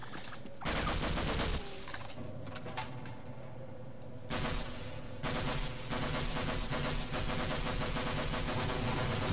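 Dense, continuous automatic gunfire from a weapon in Half-Life, loud and unbroken, with shifts in intensity as bursts overlap with clanking impacts.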